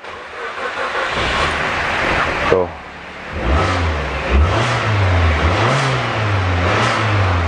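A used eight-year-old car with about 108,000 on the clock idles with a steady engine hum, then rises in a couple of short revs. Someone talks over it.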